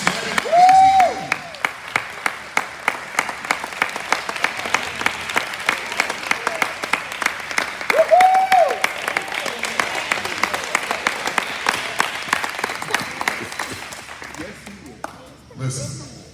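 Church audience at a youth pastor's guest address clapping hands, sharp individual claps in an uneven rhythm running through, with a voice talking over them and a couple of whistle-like tones, fading near the end.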